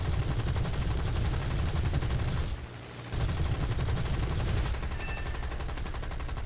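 Aircraft cannon fire in War Thunder comes as a dense, loud rapid stream of shots from a Spitfire, broken by a brief pause near the middle before the burst resumes and continues steadily.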